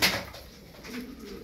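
Tumbler pigeons coo softly nearby, low murmuring calls rising and falling over about a second and a half, preceded by a brief rustle or knock at the start.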